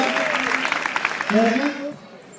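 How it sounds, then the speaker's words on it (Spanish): Spectators at an outdoor model aircraft flying event clap briefly after a landing, light applause that fades under someone talking nearby. "un aplauso para él"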